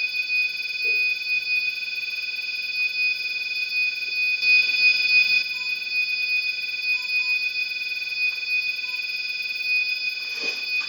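REM pod ghost-hunting device sounding its alarm, a steady high electronic tone with a fast pulsing buzz that continues unbroken and fairly loud, with faint background shuffles and no talk.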